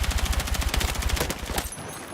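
Gunfire in Battlefield 6, a sustained fast automatic burst of evenly spaced loud shots that stops abruptly near the end.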